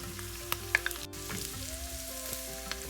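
Chopped ginger, garlic and shallots frying in hot oil for a Kerala moru curry give a steady, soft sizzle with a few faint stirring clicks throughout.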